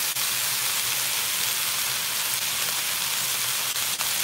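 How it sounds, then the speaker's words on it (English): Beef shortening sears in a hot pan, giving off a steady, loud, broadband sizzle and hiss that holds evenly throughout with no talking. "Get a nice sear on those."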